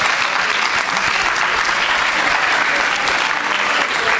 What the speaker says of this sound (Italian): Sì, figata, sì, un bel applauso.